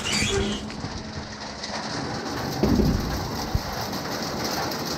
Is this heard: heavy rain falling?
yes